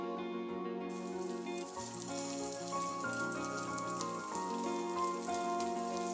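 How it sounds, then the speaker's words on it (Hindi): Potato-stuffed bread rolls fry in hot mustard oil, a dense, steady sizzle and crackle running throughout, with a faint tonal hum underneath and no voices. "जैसे ही आप इन्हें फ्राई करने के लिए डालें, थोड़ा सा मीडियम आंच कर दीजिए"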